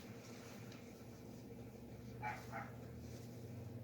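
Dogs bark twice in quick succession, faint and distant, over a low steady indoor hum.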